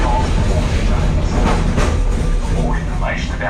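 A Melbourne City Circle tram, route 35, rumbles steadily along its rails with continuous loud rolling noise and faint clatter. A recorded announcement voice talks over it.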